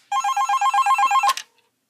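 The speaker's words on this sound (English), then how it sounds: "of course, that's what the ringer sounds like." Ringer of an AT&T Trimline 210 corded telephone: a rapid electronic warble of about a dozen bright pulses in one continuous burst, loud and close, cut off abruptly by a click, with no talking.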